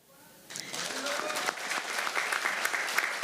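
Applause breaks out at a Democratic Party recruitment announcement event, starting abruptly after a quiet moment and continuing as dense, steady clapping from a sizable audience.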